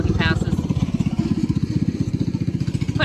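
A small motor vehicle engine fitted with a new exhaust runs close by with a steady, rapid putter that holds for several seconds at a fairly loud, even level, with no talking over it.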